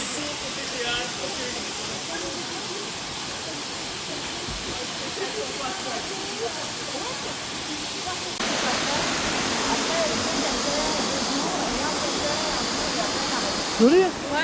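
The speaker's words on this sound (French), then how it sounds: "Cascade de l'Abysse." Waterfall of the Cascade de l'Abysse near Malendure, a steady broadband rush of falling water heard close and continuous, slightly louder in the second half, with brief voices near the end.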